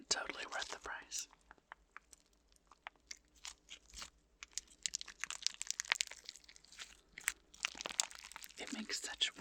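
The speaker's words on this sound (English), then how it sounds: "It makes such wonderful noises. It's so thick and crunchy." Thick, crunchy peppermint hot cocoa block slime squished up close, with clusters of crackling, crinkling pops coming in bursts between quieter gaps, soft and intimate, with a faint whisper.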